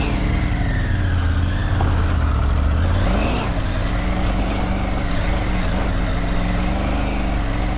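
A Triumph Tiger 900 Rally Pro adventure motorbike engine revs and accelerates up close, a loud continuous drone that rises in pitch and surges before settling into a steady pull, with no talk over it.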